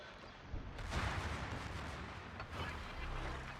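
Heavy naval guns firing in a warship battle game aboard the Vittorio Veneto, a dense burst of booming blasts with rolling rumble, loud and sustained with a second swell later.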